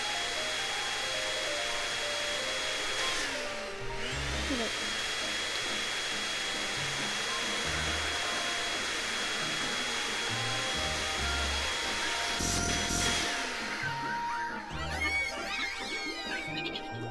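A steady whirring vacuum drone from the video game The Playroom runs throughout, with low thumps, a sharp swishing burst midway and chirpy electronic effects near the end.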